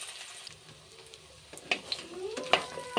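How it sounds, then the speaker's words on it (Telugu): Washed soya chunks fry in hot oil, crackling and sizzling as a spatula stirs them, with scattered clinks and scrapes against the pan growing busier toward the end, heard close with no speech. "ఈ విధంగా ఫ్రై చేసుకోవాలి చూడండి"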